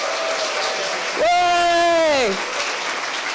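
A studio audience claps and cheers in a short burst of applause at a media awards ceremony, while someone shouts and a sustained tone sounds over the crowd.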